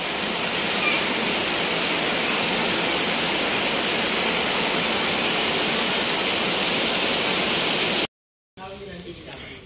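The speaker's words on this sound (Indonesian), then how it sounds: "tetapi hujannya deras sekali" Heavy evening rain in Makassar, Indonesia, pours in a steady, dense roar for several seconds, then cuts out abruptly before a brief quieter, different ambience.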